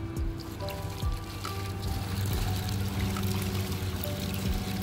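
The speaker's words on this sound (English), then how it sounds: "He's gonna get the water pump in here in a second." Water from a pump pours and splashes inside a cavern, a steady loud gushing stream with dripping spatter, continuous for about five seconds with no talking.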